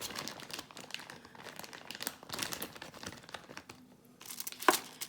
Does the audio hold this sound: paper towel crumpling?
yes